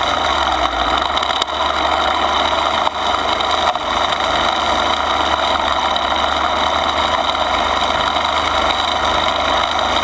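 A string trimmer edges along a landscape bed, taking growth off the top, with one continuous, steady motor drone that runs loud and close for the whole stretch without any pause.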